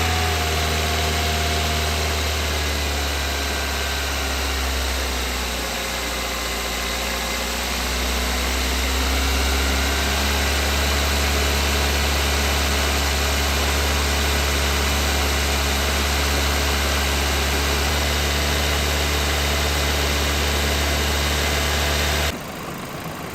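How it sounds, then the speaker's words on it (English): A 2003 Toyota Matrix engine idles steadily and loudly for the whole stretch, with a constant low drone and a faint vibration, and it cuts off sharply near the end. "but I'm going to crank the car up."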